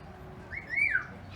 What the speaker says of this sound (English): Oh, she'll just whistle and stuff.